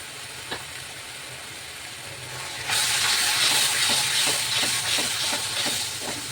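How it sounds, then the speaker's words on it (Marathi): Red chili powder, homemade garam masala and coriander powder frying in hot oil for a black pea curry, a steady hiss that suddenly swells louder partway through, with faint stirring ticks under the sizzle. "हे आपले मसाले छान तेल सुटेपर्यंत होऊन द्यायचे"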